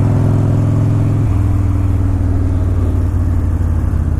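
A 1992 Harley-Davidson Daytona Glide motorcycle engine runs steadily up close, a loud low rumble that shifts pitch slightly about a second in and then holds even, with no talk.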